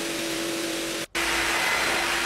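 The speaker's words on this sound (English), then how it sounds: "Hoover up the last bits" A pool vacuum hoovers debris from a flat-bottomed pool floor, giving a steady, loud suction drone that cuts out briefly and then resumes.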